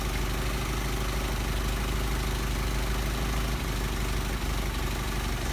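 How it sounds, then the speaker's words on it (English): A car engine idles steadily and loudly while its Solex 44PHH carburettors are adjusted, a continuous low rumble with a constant hum and no voices. "RPM drops again, so we go back in where we get our best idle speed."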